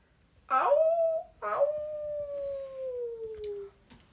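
A person vocally imitates a wolf howl with two long, close howls: a short rising cry, then a longer one that glides slowly downward before fading.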